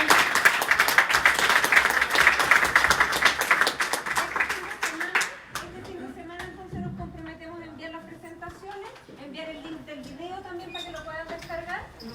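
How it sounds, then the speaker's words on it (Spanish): Audience applause in a lecture or class session, dense clapping for about five seconds that fades out, followed by someone talking alone. "un aplauso para todos"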